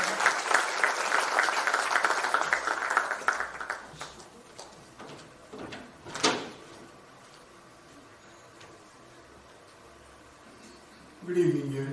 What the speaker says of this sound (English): Please join me in giving a rousing round of applause to our CEO